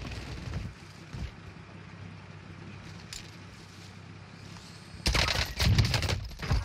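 Gunfire in a first-person shooter game: scattered faint shots early, then a dense loud burst of rapid automatic fire in the final seconds.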